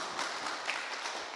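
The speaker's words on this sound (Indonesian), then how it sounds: "Tepuk tangan untuk Pak Faisal" Applause from an audience at an Indonesian civic event on disaster resilience, a brief steady wash of clapping heard at moderate distance with no talk over it.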